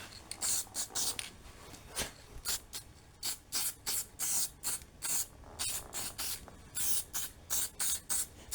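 Short bursts of spray paint coating drilled, buffed ride-on mower parts, about a dozen hissing blasts in an uneven rhythm, close and fairly loud with brief pauses between.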